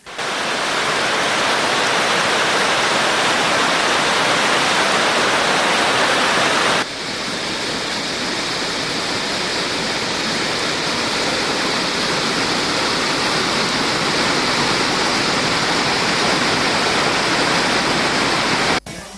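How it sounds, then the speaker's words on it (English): Water from a reservoir tank in Anuradhapura roars steadily out through sixteen open spill gates during heavy rain, a loud, continuous broadband rush lasting throughout with no voices. "the 16 spill gates of the Hurulwava tank in Galinbidinwava, Anuradhapura remain opened and the water is being released to the Yan Oya."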